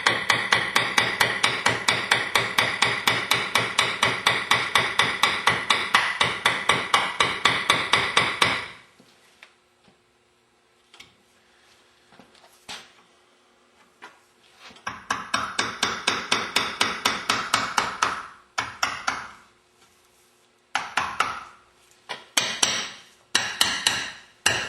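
Screwdriver tapped with a hammer to raise the can on a Meyer E-60 pump: fast, loud, evenly spaced metallic taps for several seconds, a quiet pause, then more bursts of tapping in shorter runs.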